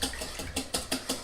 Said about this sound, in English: And I'm just going to whisk